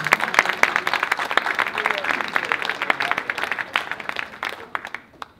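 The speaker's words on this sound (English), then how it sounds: "Let's just give him another round of applause" A round of applause at a Ghanaian citizenship anniversary celebration: a loud, dense rush of many hands clapping, with sharp individual claps standing out, tapering off near the end.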